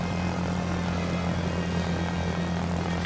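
A fighter plane's propeller engine roars steadily as the throttle comes up for a climb in the video game Secret Weapons Over Normandy, a loud, constant droning hum with no voices over it.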